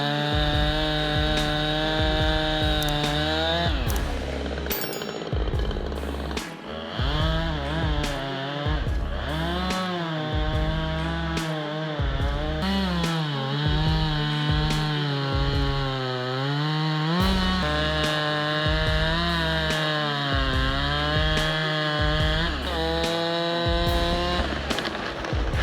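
A Stihl MS-880 chainsaw with a 59-inch bar cuts through massive cedar, its engine droning loud and close without a break, the pitch sagging and climbing as the chain bites into the wood.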